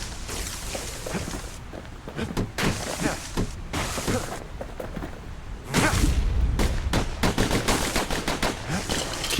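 Gunfire from the Kid's twin guns in the action game Bastion, rapid sharp shots in dense irregular volleys with impacts and whooshes, loud and near throughout.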